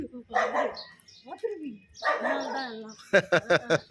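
A dog outside a house in the green hills of Valparai barks in a quick burst of four or five sharp barks near the end, after people talk nearby on a morning walk.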